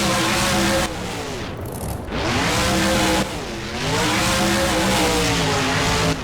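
Monster truck in the BeamNG video game roaring through freestyle stunts, its engine revving hard with rising and falling pitch, a brief drop around jumps and landings, loud and continuous throughout.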